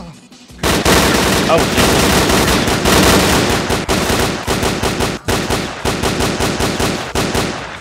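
Rapid bursts of gunfire from loners in the video game S.T.A.L.K.E.R.: Clear Sky, loud dense automatic shooting in near-continuous volleys with brief gaps and a short exclamation from a man.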